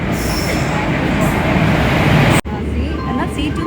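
A train on Indian Railways pulls into a station with a loud, continuous rumble and wheel noise close by, while people talk nearby.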